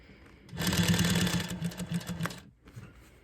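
A sewing machine stitches a patch onto a letterman jacket in one loud, close burst of rapid needle hum lasting about two seconds, which then stops abruptly.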